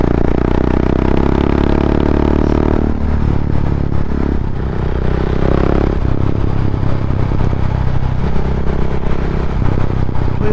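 A Husqvarna Vitpilen 701 motorcycle engine while riding on the road, a loud steady drone with shifts in pitch as the revs change, mixed with wind rush.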